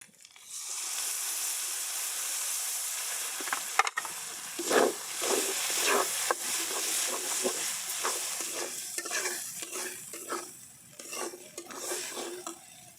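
A mixed spice paste is poured into a hot wok with fried onion, chilli, ginger and garlic for a chicken curry. It bursts into a loud hissing sizzle, punctuated by repeated clinks and scrapes of stirring, with no talk.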